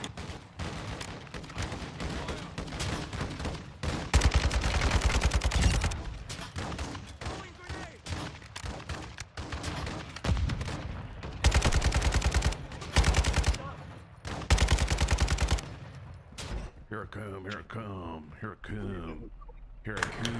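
A video game gun fires in dense rapid bursts that stop and start, with fast clattering volleys and gaps between them. A voice talks now and then, and some electronic tones come near the end.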